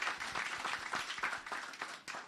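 A small audience at a law school lecture in Jamaica applauds after the talk, with scattered individual claps audible in a fairly quiet, distant round that stays brief.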